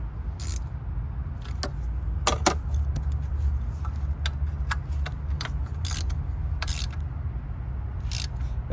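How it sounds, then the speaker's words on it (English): Bolts on the plastic thermostat housing of a 2003 BMW 330i are tightened little by little, giving scattered sharp metallic ratchet clicks, some in quick pairs, over a low steady background rumble. "tightening one side and then move to the next one, and not tightening all the way, just going little by little"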